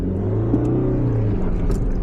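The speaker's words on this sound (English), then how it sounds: "Okay, I'm going to really rev the engine, okay, past 2, okay," A manual-transmission car engine revs up to higher RPM before the clutch is released, a steady loud drone that rises slightly in pitch, heard from nearby without speech.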